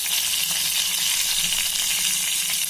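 Mustard seeds and cumin sizzling in hot oil for an egg tomato curry, a steady close hiss and crackle throughout with no talking.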